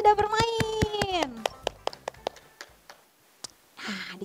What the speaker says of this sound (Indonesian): tepuk tangan buat kakak-kakak yang sudah bermain